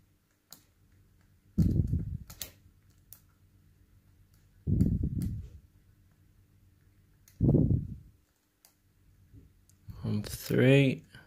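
Close, quiet clicks of the pins inside an ASSA Combi Plus high-security lock as it is picked, mostly sparse ticks between three short bursts of a man's speech and a brief tonal sound at the end.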